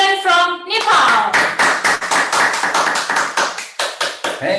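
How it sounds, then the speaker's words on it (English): An audience applauding at a peace festival event, lively rhythmic clapping that builds right after a brief tonal sound at the start and stays loud and close for the rest of the clip. "please give another round of applause to Ambassador for Peace couple, Mr. and Mrs. Deepak Maharjan from Nepal."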